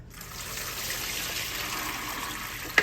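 Water drains from fresh purple hull peas in a colander as a steady, close-up trickle and splash, ending with a brief sharp clink.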